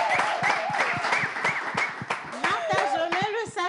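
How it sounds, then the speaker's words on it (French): Rhythmic clapping from an audience during a live French chat show, steady repeated claps running beneath a voice talking and singing throughout. "Est-ce qu'on peut applaudir"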